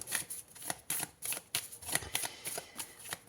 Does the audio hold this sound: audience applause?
no